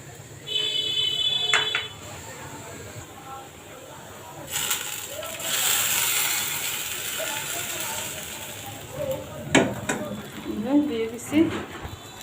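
A hot garlic and onion tempering poured onto potatoes in a pan bursts into a loud, hissing sizzle that fades slowly, with clinks of utensils on the pan before and after.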